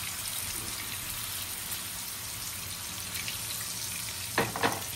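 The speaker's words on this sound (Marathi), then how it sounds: "पहिला आहे ना मी हा लसूण सोडते बघा. लसूण सोडायला पहिला थोडासा लसणाचा फ्लेवर आहे मस्त तेलात थोडा पसरेल तो." Garlic sizzles steadily in hot oil in a home kitchen pan, the start of a black fish curry, a constant mid-level crackle with a couple of brief louder clinks near the end.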